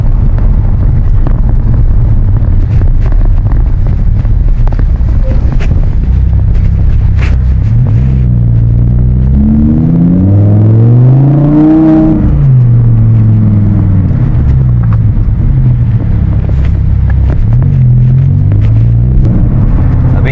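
Car driving on a road in its mildest drive mode, a steady low engine rumble with wind noise, rising and falling as it picks up speed mid-way, close and continuous with no talk.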